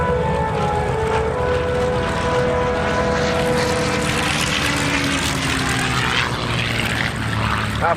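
A propeller airplane flies at the National Warplane Museum's Greatest Show on Turf airshow, its engine a loud, steady drone with a slowly shifting pitch that holds through the whole stretch and stays close throughout.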